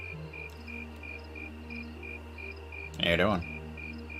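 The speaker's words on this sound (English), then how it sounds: "Crickets!" Crickets chirp in Trails of Cold Steel, an even and rhythmic pulsing trill over a low ambient hum, while someone speaks briefly near the end.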